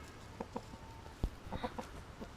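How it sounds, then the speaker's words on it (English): A big old rooster gives a series of soft, short clucks in small bursts, fairly faint and close, with no talking. "There's my big old rooster here."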